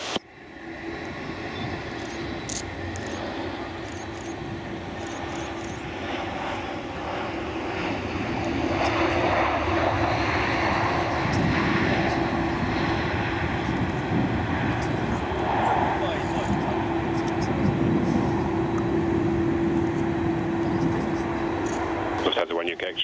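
A Thomson Airways Boeing 787 Dreamliner airliner approaches to land at Manchester Airport, its engines a steady distant roar that swells louder over the second half while air traffic radio voices talk over it.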